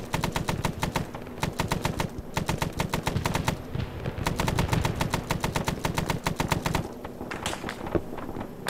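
Incoming machine-gun fire in ArmA 3 SOG Prairie Fire, set in the Vietnam War: loud, rapid automatic bursts in long rattling strings with a brief pause and a few scattered shots, no talking.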